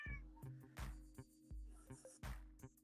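A cat meows several times, fairly close and quiet, with short repeated calls spaced across the few seconds alongside a few soft knocks and clicks.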